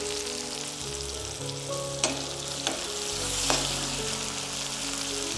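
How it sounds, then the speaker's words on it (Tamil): Onion, tomato and garlic sauté in a pan with a steady, soft sizzle, broken by a few sharp clinks of a utensil against the pan. "வெங்காயமும் தக்காளியும் நல்லா வதங்கிடுச்சு. அதோட பூண்டு ஒரு 4-5 பல்ல ஆட் பண்ணிக்கிறோம்."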